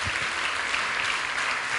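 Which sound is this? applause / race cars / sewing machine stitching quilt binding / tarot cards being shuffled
applause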